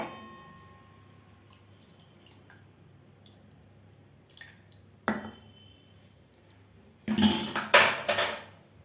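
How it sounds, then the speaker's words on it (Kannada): A wooden churning stick is washed in a home kitchen: faint clinks and taps over quiet room noise, then near the end a loud burst of splashing, squishing water and rubbing as the stick is rinsed. "ನಾನೊಂದು ಸ್ವಲ್ಪ ಕಡ್ಗೋಲು ತೊಳೆದ್ಬಿಡ್ತೀನಿ ಅಷ್ಟೇ"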